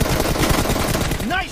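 Rapid automatic gunfire in a team deathmatch shooter video game, a loud close burst of fast repeated shots that cuts off near the end, where a voice briefly speaks.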